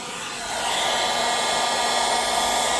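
A hair dryer blows warm air onto the frozen charging port of an MG4 electric car, a steady loud whoosh that ramps up in the first half second and then holds constant with no talking.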